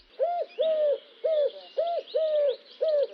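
A garden bird repeats a three-note pattern of mellow, rounded hooting notes in steady groups. The notes sound clear and fairly close, with no voices.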